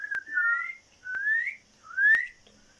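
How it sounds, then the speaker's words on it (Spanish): A child whistles during a facial nerve exam: three short rising whistled notes, each about half a second, evenly spaced with brief clicks, faint and alone. "le pedimos al paciente que intente silbar"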